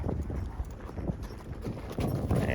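A horse walking briskly on an open-space trail near Castle Rock, Colorado, its hooves clip-clopping in a steady, fairly close rhythm over outdoor rustle and wind.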